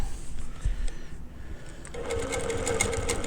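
Quilting sewing machine stitching a Baptist fan pattern, a steady close mechanical whir that starts softly, pauses briefly, then runs louder and continuous through the rest, with no talking.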